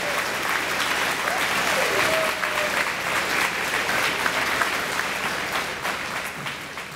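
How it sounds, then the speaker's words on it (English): A seated audience at the dedication of the new Taft IT High School gives a steady round of applause for Cincinnati Bell liaisons standing up, with dense clapping holding evenly for about seven seconds and tapering slightly near the end. "Give them a round of applause"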